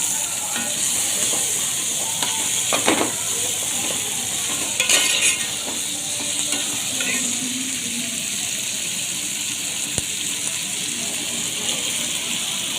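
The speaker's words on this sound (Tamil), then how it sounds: "தக்காளி போட்டு நல்லா வதக்கணும்." Chopped tomatoes sautéing in a pan for Kerala chicken liver curry, a continuous loud sizzle with occasional spoon scrapes and clinks against the pan.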